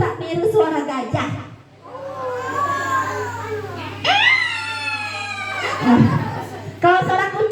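Young children trumpet and squeal in imitation of an elephant at a storytelling session, with several high wavering cries overlapping, loud and close, broken by short gaps.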